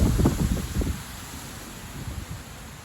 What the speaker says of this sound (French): Et le vent est très fort.